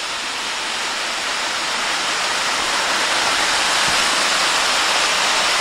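A forest waterfall on a rocky, rooty trail in a state park roars loud and close, a steady broadband rush of falling water with no voices.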